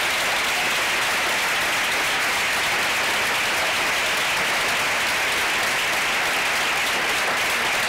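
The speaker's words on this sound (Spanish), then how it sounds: "yo os pido a todos vosotros un aplauso muy fuerte a la Policía Nacional" A large audience at a political lunch event with the mayor of Marbella applauds continuously, a dense, loud and steady wash of clapping for the whole stretch with no pauses.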